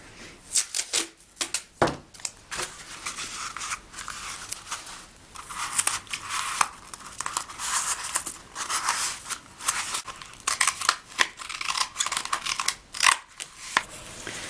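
Scissors snipping the extra tail off a handmade angel tree-topper craft, a close series of irregular crisp cuts and rustling paper or fabric handling, with no voices.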